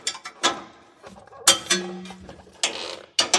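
A ratcheting gear wrench being worked on a suspension bracket during a vehicle air bag upgrade, making close bursts of metallic clicking and creaking in uneven spurts with brief pauses between.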